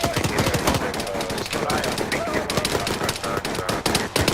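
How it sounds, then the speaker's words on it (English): Enemy minigun in a military video game, a loud unbroken stream of rapid automatic fire with dense crackling shots, with voices calling out faintly beneath the gunfire. "Enemy on minigun."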